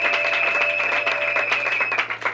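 A church congregation in Kinshasa claps and cheers at a priestly ordination Mass, a dense, steady wave of applause with raised voices running through the whole short stretch and a sustained tone behind it.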